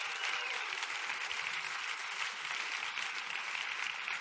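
Audience applause welcomes Lee Clow of TBWA onstage at the IF! Italians Festival, a steady, dense wash of many hands clapping that holds evenly for the whole stretch with no voices over it.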